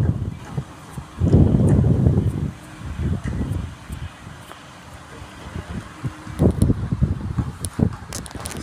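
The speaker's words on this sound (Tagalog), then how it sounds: "Lakas ng hangin" Gusts of wind buffet the microphone outdoors, with a strong rumbling burst early on and more bursts later, mixed with scattered crackles and rustling.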